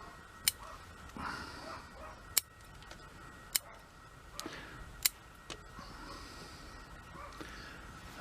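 Pruning shears snip a large-leaved lime bonsai branch during a summer prune, several sharp, isolated close clicks spaced a second or so apart over a quiet background.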